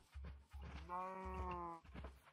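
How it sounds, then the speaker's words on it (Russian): A low, drawn-out Minecraft cow moo with a steady tone, close by, amid a few soft thumps and footstep-like sounds. "О, вон еще коровы."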